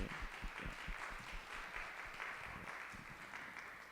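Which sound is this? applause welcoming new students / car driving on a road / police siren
applause welcoming new students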